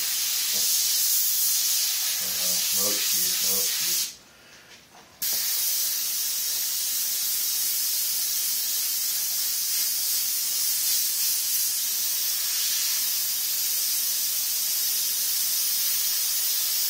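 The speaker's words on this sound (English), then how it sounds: "Right now I'm just kind of airbrushing some texture in here" An airbrush sprays paint texture onto a freehand skull, a continuous close hissing jet of air that cuts out for about a second before resuming steadily.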